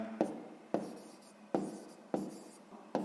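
Someone writes out a sixth-grade math solution by hand. Five quiet, close scratching strokes follow one another at a steady, unhurried pace, with no talking.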